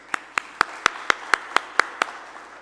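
Clapping at a congress in Tanzania comes through as nine sharp, evenly spaced claps, close and distinct, as though from a single pair of hands in a quiet room rather than a full audience.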